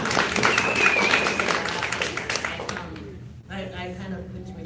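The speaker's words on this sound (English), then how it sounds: "Round of applause." Audience at a Bible study meeting clapping and cheering in a burst of applause that fades away, followed by a person starting to talk.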